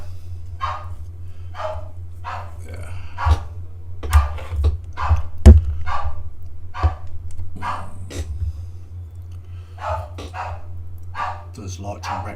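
A dog barks repeatedly indoors during a tabletop miniature-building session, the sharp barks coming in an uneven series over a steady low electrical hum.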